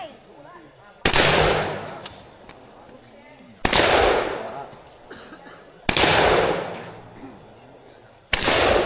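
Four loud, close gunshots at a shooting activity, spaced a couple of seconds apart, each a sharp crack followed by a long ringing decay, with faint voices between shots.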